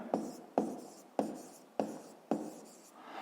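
Hand-writing of digits during a fifth-grade math exercise, heard as five sharp pen or chalk strokes at regular intervals, each fading quickly, close and fairly quiet with no talking.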